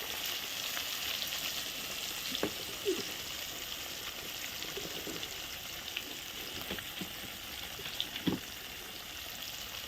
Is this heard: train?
no